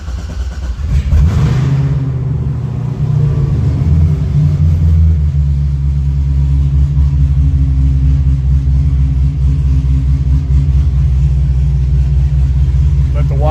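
C6 or C7 Corvette engine starting up, a cranking burst followed by a loud, deep, rumbling idle that settles into a steady, close drone.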